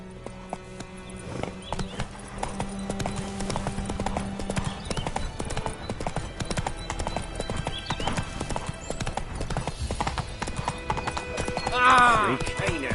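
Horse hooves clip-clop in a steady close rhythm, with a brief whinny near the end and a voice talking over them.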